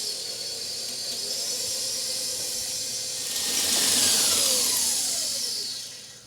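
Cake batter being mixed after milk is added, for a gluten-free pineapple upside-down cake: a steady whirring hiss that swells louder midway, then eases off, with no voices.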